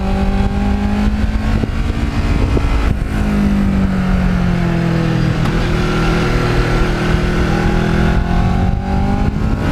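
A Kawasaki Ninja motorcycle engine pulls steadily under acceleration, a loud, continuous drone that climbs in pitch through the gears with a brief dip at each shift, heard up close without any talking.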